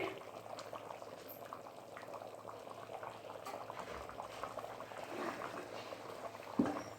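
Goat head meat masala curry bubbles steadily in a pot on the stove, a low continuous simmer of popping bubbles with one brief clatter near the end.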